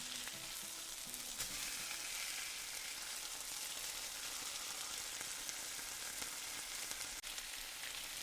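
Chicken curry for a country chicken jhol sizzles and fries steadily in a hot pan as hot water is poured in, a dense continuous crackle throughout with no talking.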